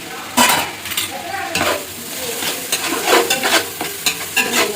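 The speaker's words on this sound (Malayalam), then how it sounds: "നന്നായിട്ട് വഴറ്റിയെടുക്കണം കേട്ടോ" Tomatoes sautéing in a pan for biryani give a continuous sizzle, broken by repeated scraping strokes of a spoon stirring against the pan, close and fairly loud.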